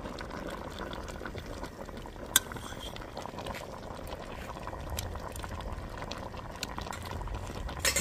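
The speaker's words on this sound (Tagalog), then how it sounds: "Kasan ko ng konti para kumulo pa siya." Coconut milk stew with squash simmering in a pot, a steady close bubbling and hissing boil that runs continuously with a few small clinks, no talk.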